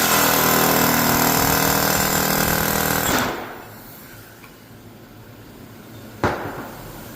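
A continuous, loud, rapid mechanical rattle from work on the differential of a 1984 Toyota Celica GTS, driving the pinion out, stops after a few seconds; quiet follows, then one sharp metallic strike.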